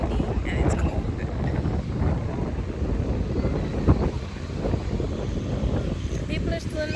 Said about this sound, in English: It's very windy and it's cold.